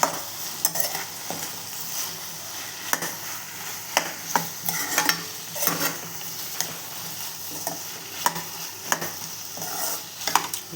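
Potato capsicum curry gets stirred in a pan, with repeated close scrapes and clicks of the spoon against the metal over a soft, steady sizzle.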